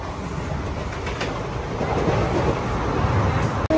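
A sleeper class coach running on rails gives a steady rumble and rushing roar with faint rhythmic clatter, loud and continuous throughout, with a short dropout near the end.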